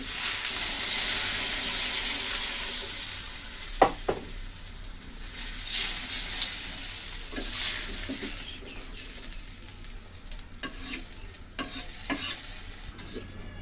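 Water poured into a hot pan of sizzling puti fish and taro curry, a hiss and bubbling sizzle with stirring scrapes and a few sharp clinks, close and moderately loud throughout.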